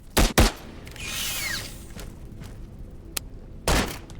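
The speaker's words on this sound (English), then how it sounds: "Gunshot right." Two sharp, loud gunshot bangs in quick succession in the video game Into the Radius 2, then a whooshing sweep, a faint click, and another loud shot near the end.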